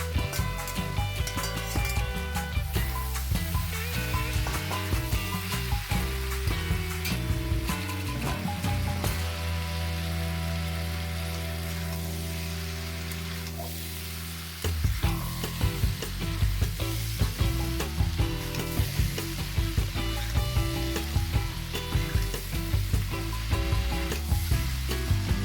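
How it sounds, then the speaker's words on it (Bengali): Leftover vegetables sizzle and fry in a pan with mustard fish oil while being stirred, a steady close crackle with scraping strokes, briefly settling into a quieter, smoother hiss midway before the stirring resumes. "সবজিগুলো খুব ভালোভাবে ভাজা হয়ে গেছে"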